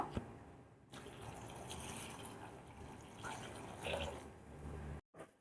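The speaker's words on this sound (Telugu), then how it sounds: "గిన్నెలో వేసేసి నీళ్ళు పోసేసి స్టవ్ మీద పెట్టుకుందాం." Water poured into a cooking pot in a home kitchen for boiling cluster beans, a steady close splashing fill that runs for several seconds, swells briefly near the end, then cuts off.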